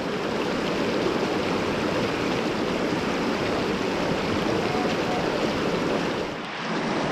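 Class 2 rapids on the Truckee River rush in a steady, broadband roar of churning whitewater, dense and unbroken throughout, heard from a short distance with no voices.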